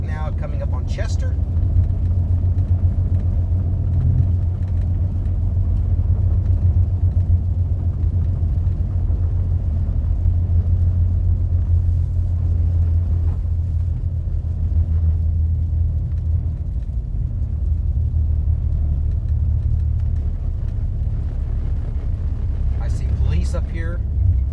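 A car drives through downtown Little Rock at about 36 miles an hour in sleet, giving a steady low engine and road rumble throughout. Someone talks over it.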